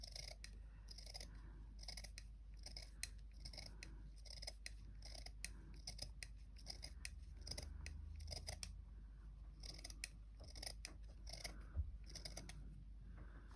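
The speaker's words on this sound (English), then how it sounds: "I had some pinking shears" Pinking shears snip through fabric in a steady series of crisp, close cuts, repeated rhythmically over a low background hum, quiet and without speech.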